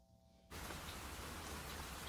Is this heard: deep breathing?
no